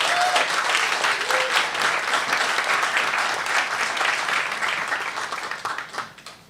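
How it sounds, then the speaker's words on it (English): An audience at an entrepreneur showcase applauds the founders, a full, continuous round of clapping that swells early, then gradually thins and fades out over several seconds. "I want to give another round of applause to Ophelia"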